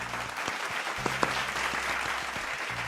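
Applause sound effect played during a Spanish-language podcast about amusement parks, a steady wash of clapping under which a few low tones and faint voices can be heard.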